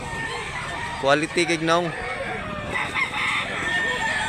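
A rooster crows loudly nearby at a busy chicken market in Barili, Cebu, the call rising and falling over a second, while people talk in the background and hens cluck faintly.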